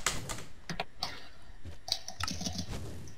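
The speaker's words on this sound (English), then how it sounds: "That sound of mashing keyboard." Fast, frantic clicking and clacking from a computer keyboard being mashed during a gaming session, close and fairly quiet, in irregular bursts.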